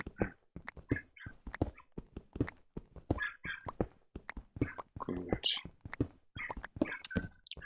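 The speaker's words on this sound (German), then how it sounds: "hier bellt gerade ein Hündchen, ein ganz kleines Hündchen" A very small dog barks repeatedly in sharp, high yips, loud and close, with a person talking over and between the barks.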